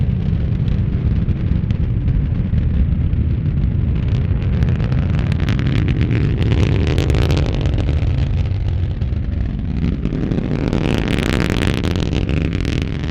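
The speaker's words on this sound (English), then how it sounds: "The sound slowly fades to a low rumble as the rocket reappears above the clouds" A NASA rocket launch roaring as a loud, continuous, broad crackling rumble heard from a distance, steady and dense, with the rasp rising and brightening near the end.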